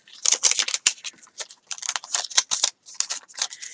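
Scissors cutting paper Pokemon cupcake toppers, close and crisp, with quick repeated snips and rustling in uneven bursts and short pauses between them.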